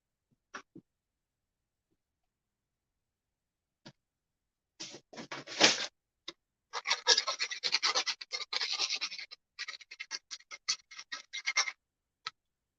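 Sandpaper scrubbing built-up residue off the tip of a pyrography wood-burning pen, heard as close, dry rasping strokes in short bursts and then a longer run of quick, uneven scratches, with a few isolated taps.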